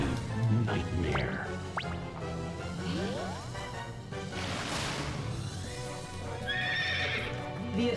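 A horse neighs and whinnies in the card battle game Culdcept Revolt, with clip-clop hooves, set over steady game music and other effects.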